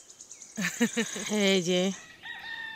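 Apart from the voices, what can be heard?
chicken clucking nearby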